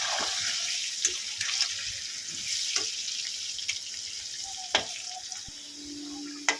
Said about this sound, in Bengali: লাল লাল করে ভেজে নেবো আলুটা